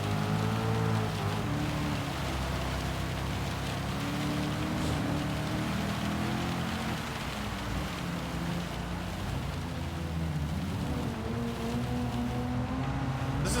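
Heavy rain in the racing game Gran Turismo, a dense steady downpour hiss mixed with a low engine drone, loud and continuous throughout with no pauses.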